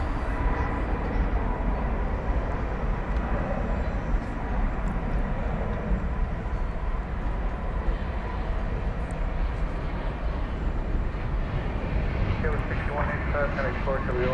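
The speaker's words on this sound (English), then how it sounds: "All right, here goes the flight to Portland." Airliner taking off on a flight to Portland from a busy airport, a steady broad engine roar holding loud and constant throughout, with no clear build or fade.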